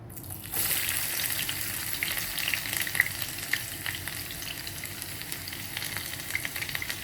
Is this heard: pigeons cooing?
no